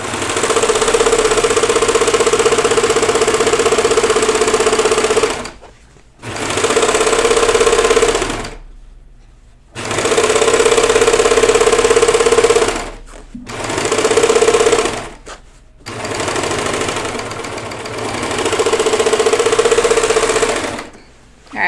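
A home sewing machine stitches the side seams of Yanta overalls in five separate runs, each a steady whirring burst with short pauses between as the fabric is adjusted.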